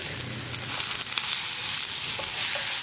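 Onion and curry leaves fry in oil in a pan, producing a close, dense sizzling hiss that stays fairly even throughout, with a couple of faint clicks and no speech.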